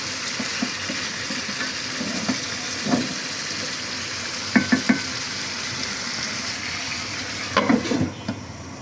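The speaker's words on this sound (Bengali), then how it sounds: "আজকে দারচিনি ছাড়া মুরগির মাংস রান্না করতেছি" Chicken curry with cardamom, cloves and bay leaves sizzles steadily in a pan, a constant frying hiss broken by a few brief clinks and stirring knocks, close by with no one talking.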